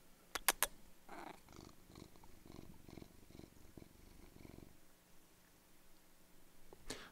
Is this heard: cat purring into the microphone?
yes